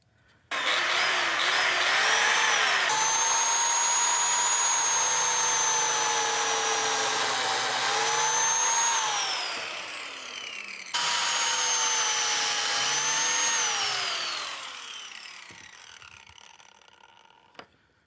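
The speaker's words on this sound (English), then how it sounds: "Now that we got the 2 biscuit holes cut" A biscuit joiner cuts two biscuit slots in wood, two long, loud whining cuts in a row with rising and falling motor pitch, heard close and alone, each spinning down to quiet.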